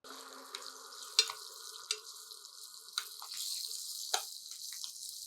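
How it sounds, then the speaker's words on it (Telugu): Oil sizzles steadily in a pan with a soft frying hiss as green chillies fry in tempering oil, punctuated by a few sharp clinks and taps of a utensil. "కొద్దిగా పచ్చిమిర్చి వేగనివ్వండి"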